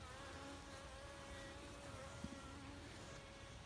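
Honeybees swarm around an opened hive, giving a steady, faint, droning buzz that fills the whole stretch without pauses or speech.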